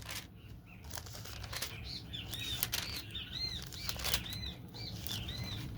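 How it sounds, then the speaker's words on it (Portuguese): Small birds take flight with quick, soft bursts of flapping wings and a few faint chirps, close but quiet, with no voices. "Olha os passarinhos, que lindo."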